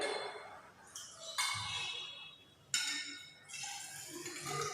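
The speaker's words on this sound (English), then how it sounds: "This measuring jar I am going to pour both the waters." Water being poured into a glass measuring jar in a biology lab, 100 ml at a time, with several splashing pours and faint clinks of glassware, quiet and close.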